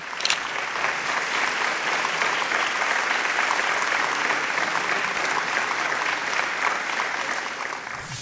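An audience at a Bengali award presentation claps loudly and steadily for about eight seconds, a dense, continuous roar of applause that tapers slightly at the end.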